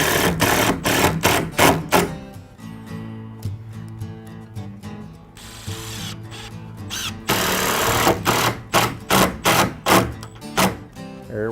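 A power drill drives screws into pre-drilled holes in a basic wooden sled, giving close, loud whirring bursts, short stuttering pulses, then a longer steady run and more quick trigger pulses.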